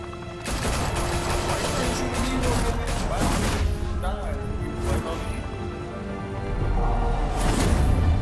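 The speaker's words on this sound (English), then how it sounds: "Open fire!" Bursts of heavy gunfire break out and continue in rapid volleys over a steady rumble, loud and close, with a few sharp cracks and a voice shouting amid the shooting.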